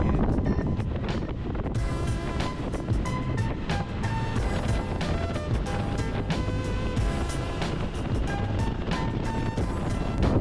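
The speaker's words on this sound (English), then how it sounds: "This 40-mile-an-hour wind took it." Strong 40 mph wind on a backcountry route through the Arizona and Nevada desert buffets the microphone in a loud, unbroken roar for the whole stretch.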